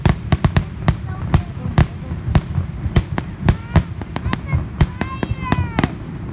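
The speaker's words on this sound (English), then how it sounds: "Elisa, what do you think of the fireworks?" Rapid sharp bangs and crackles of a finale of Fourth of July fireworks bursting in quick irregular succession, loud and close, with faint whistling streaks between blasts.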